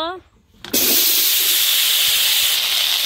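A sudden loud, continuous sizzle erupts as potatoes hit hot oil left from frying fish, a sustained hissing crackle that stays strong throughout.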